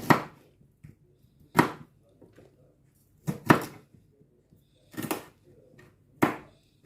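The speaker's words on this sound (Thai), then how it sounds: "หั่นบล็อกโคลี่กันเลยค่ะ" Broccoli chopped on a cutting board with a knife, six sharp separate chops at uneven intervals, close and clear with no talk over them.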